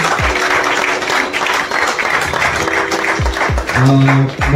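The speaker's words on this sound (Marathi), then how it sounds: "जोरदार टाळ्या." Loud, dense applause from a crowd at an office Christmas celebration, steady hand-clapping filling the room, with brief tonal bits of voices or music near the end.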